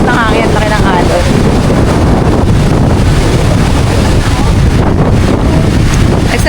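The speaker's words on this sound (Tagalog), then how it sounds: "Ay, lakas ng hangin at laki ng alon." Strong wind roars and buffets the microphone at a Boracay beach during the habagat monsoon, with big surf crashing underneath and a voice speaking briefly at the start.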